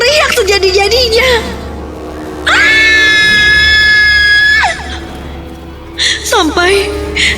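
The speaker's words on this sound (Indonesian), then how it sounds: "Aku teriak sejadi-jadinya." A woman's loud, sustained scream rising out of dramatic narration in a horror radio story, with a shorter shriek near the end and talk before and between.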